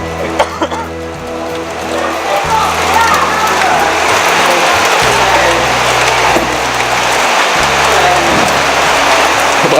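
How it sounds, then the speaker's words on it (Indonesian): Heavy rain hisses loud and unbroken over a flooded village strawberry planting festival, with a low droning hum beneath it. "Emang banjir sekarang ini ya. Soalnya hujan."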